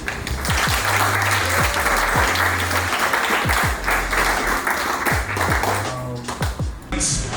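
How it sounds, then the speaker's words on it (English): An audience at an awards ceremony gives a sustained round of applause, dense steady clapping with scattered sharp claps over a low, steady tonal backdrop. "So you actually need to give yourself a round of applause"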